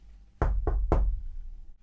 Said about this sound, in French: Elle frappa à la porte.